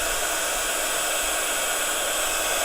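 Hair dryer blowing on layers of paint to dry them, a loud steady rushing hiss that holds unchanged throughout with no voice.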